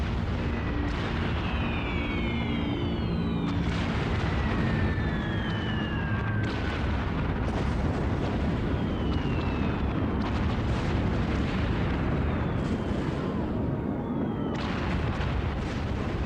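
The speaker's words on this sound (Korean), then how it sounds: "지상에선 유탄포와 대포가 포화를 퍼부었다." Howitzers and cannons pound away in a wartime ground bombardment, a continuous roar of heavy artillery with repeated booms and whistling shells overlapping throughout, loud and dense with no talk.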